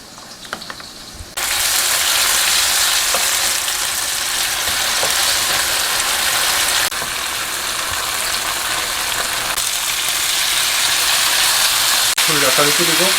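Old-style braised tofu with kelp broth and a spoonful of oligosaccharide syrup simmering in a pan, a loud continuous bubbling sizzle that holds steady for several seconds, with a brief softer stretch at the start.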